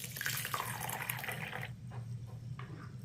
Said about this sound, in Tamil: இதை நல்லா கழுவிட்டு